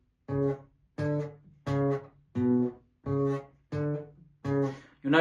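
A guitar string plucked for single notes in a blues exercise, seven even, ringing tones spaced about two-thirds of a second apart, each decaying before the next, played alone and close up.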